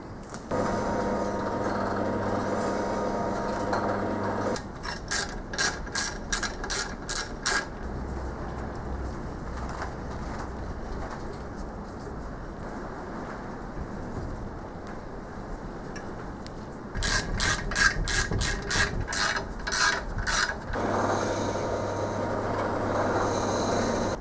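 A steady machine hum runs throughout, broken by bursts of rapid rhythmic clicking and chattering, close by and moderately loud.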